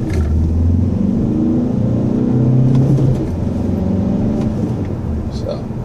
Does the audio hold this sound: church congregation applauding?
no